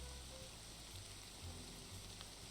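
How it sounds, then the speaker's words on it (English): Steady rain falls as a soft, continuous patter with a constant broadband hiss, heard alone at a moderate, even level. "Ooh, this rain is nice."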